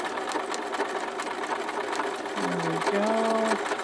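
Sewing machine stitching a hanging towel made from pot holders and a kitchen towel, a steady close mechanical whir throughout, with someone speaking briefly near the end.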